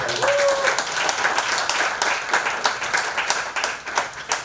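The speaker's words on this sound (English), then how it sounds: "I think we can fairly give a loud round of applause for that." Audience clapping at a Women's Day celebration, a sustained round of applause of many hands, close and lively, running through the whole moment.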